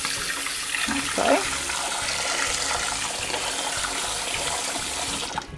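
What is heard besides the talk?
sink tap filling pot with cold water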